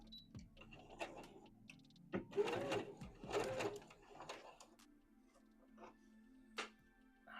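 A sewing machine runs a few short stitching bursts forward and then in reverse, with quiet pauses and faint handling noises between the runs.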